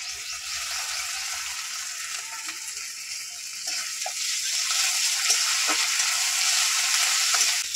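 Ginger-garlic paste frying with browned onions in a pan, a steady low sizzle that grows louder partway through, with occasional faint scrapes of stirring.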